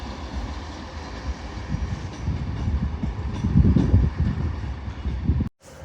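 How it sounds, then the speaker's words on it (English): TransPennine Express Class 397 electric train arriving at Carlisle station on the West Coast Main Line, a steady, fairly close rumble of wheels and motors with some clatter, building slightly before cutting off abruptly. "Arriving in now is a Transpennine Express Class 397 working a service from Preston to Glasgow Central."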